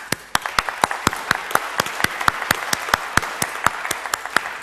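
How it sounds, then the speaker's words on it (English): A small audience at a panel event on Russia applauds, with individual claps standing out sharply and close in a steady, moderately loud burst and no talk over it. "a round of applause"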